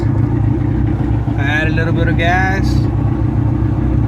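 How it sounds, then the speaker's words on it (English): A car engine idles with a steady, slightly rough low rumble, running on flex fuel through junkyard injectors; someone talks briefly over the constant drone. "the car started idling a little bit rougher"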